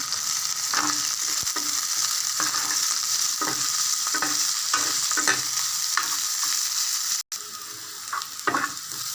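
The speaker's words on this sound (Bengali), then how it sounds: "পেঁয়াজ রসুন ভাজা হয়ে গেছে" Onion and garlic fry in hot oil in a pan, a loud steady sizzle with regular stirring scrapes every second or so and a brief break near the end.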